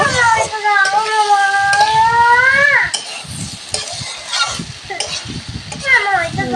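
Ground spice paste sizzles and crackles as it is fried in a pan for a fish curry, with stirring scrapes and someone talking over the frying.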